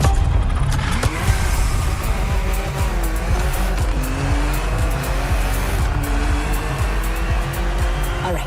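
A BMW 3.0 CSL roars loudly in The Crew racing game, its engine note rising and falling through gear changes with tire squeal, close and continuous for the whole stretch.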